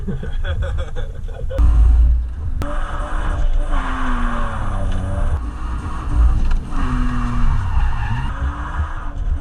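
A freshly built Volvo drift car skids and squeals its tires, with engine revs rising and falling, loud and close, as a person talks over the noise.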